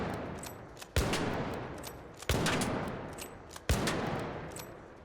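A Renegade rifle in the ARC Raiders video game fires three evenly spaced, sharp single shots, each with a short decaying tail, in a close, moderately quiet game mix with no speech.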